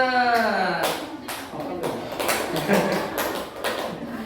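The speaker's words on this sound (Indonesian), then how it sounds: "Beri tepuk tangan untuk kelas 5." A school class gives brief applause during a lesson, a short burst of scattered claps in the room after a spoken line, with a few separate taps and knocks trailing off.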